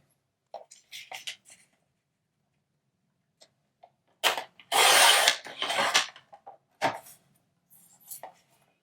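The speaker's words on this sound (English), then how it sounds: "And I'm using the score and trim from We Are Memory Keepers." Sheets of paper scored and trimmed on a We Are Memory Keepers score and trim board: scattered close scraping strokes and clicks, with a longer, louder rasping pass in the middle and quiet gaps between.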